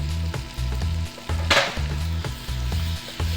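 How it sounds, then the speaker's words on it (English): Peppers, onions, tomatoes and spinach sauté for an omelette with a steady close sizzle, interrupted by a repeating low rhythmic thumping and one brighter scraping burst midway, with no talking. "As you can see, I'm sauteing up."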